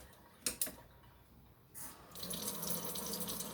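Tap water runs through a pure water filter. It starts with a couple of knocks, then settles into a steady, close rushing stream after about two seconds.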